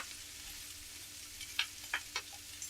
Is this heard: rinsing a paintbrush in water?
no